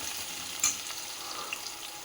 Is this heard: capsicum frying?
yes